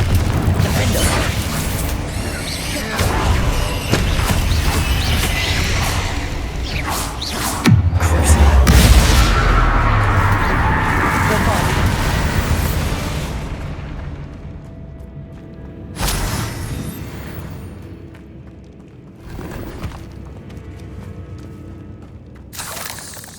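Spellcasting effects and explosions in Hogwarts Legacy: loud booms, crashes and whooshing magic blasts in a running sequence, with a heavy low impact near the middle and sharp bursts later, no talking.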